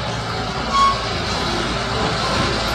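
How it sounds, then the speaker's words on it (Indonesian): A forklift truck runs with a steady, fairly loud engine rumble and broadband mechanical noise that holds evenly throughout, with no talking. "Di sini ada mobil forklift."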